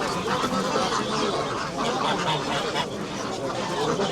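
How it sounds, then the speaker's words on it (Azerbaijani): A crowd of ducks at a poultry market quacks steadily in a continuous, moderately loud jumble of overlapping calls, with market chatter and background noise mixed in. "Ördəklər. Kimindir bunlar?"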